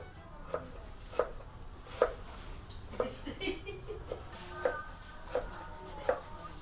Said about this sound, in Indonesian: julang jaling kemudian dipotong kecil hingga lembut